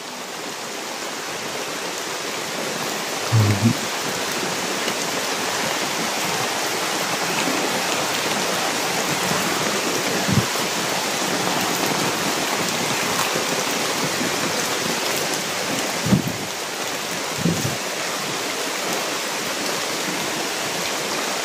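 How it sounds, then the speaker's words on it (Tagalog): Heavy rain falling steadily and loudly, a dense continuous wash with a few brief dull knocks and thumps in the background. "lakas ng ulan na"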